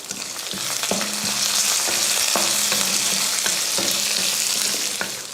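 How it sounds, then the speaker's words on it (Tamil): Chana dal, urad dal, curry leaves and garlic cloves fry in hot oil with a loud, continuous hiss, while a faint rhythmic music bed plays underneath and no one speaks. "எண்ணெய் ஊற்றினதுக்கப்புறம் 2 ஸ்பூன் அளவுக்கு கடலைப்பருப்பு, அதே அளவு உளுந்து, கொஞ்சம் கருவேப்பிலை, ஒரு பூண்டு பல் ஒரு 10 போட்டுக்கோங்க"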